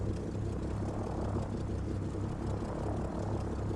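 A Hughes XF-11 twin propeller aircraft taxies in a flight video game, with a steady, droning engine hum and a low harmonic buzz holding constant throughout, fairly loud and close, with no talking.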